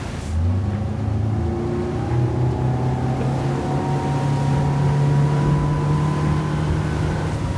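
An Axopar 29 boat runs at high speed offshore in messy conditions, with a steady close engine drone and hull and wind rush continuing evenly throughout.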